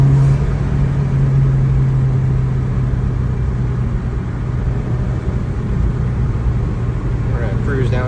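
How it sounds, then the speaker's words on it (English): A 2019 Subaru WRX drives slowly after a front brake pad change, its engine a steady low rumble with road noise throughout, while someone talks over it. "cruise down through here and just make sure the brakes are working"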